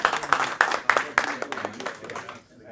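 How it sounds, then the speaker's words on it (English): A small post-fight boxing press conference crowd gives a short round of applause for fighter Jessie Vargas, a handful of distinct claps and scattered hands that thin out and fade within a few seconds. "Round of applause"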